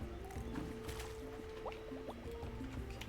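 Plants being watered in the video game Roots of Pacha make a quiet sound of pouring liquid, with soft splashes and gurgling drips that run steadily for about three seconds and faint game sounds underneath.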